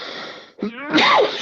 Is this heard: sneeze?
yes